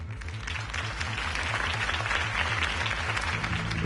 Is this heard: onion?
no